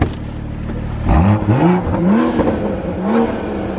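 A 2021 Toyota Supra with a turbocharged engine and new downpipe exhaust accelerates on a test run. The engine pulls through several rising rev sweeps with shifts between them, heard from inside the car.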